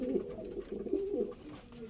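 Close, low cooing from adult Andhra red breeder pigeons rolls on in overlapping throaty phrases, moderately loud and unbroken by voices.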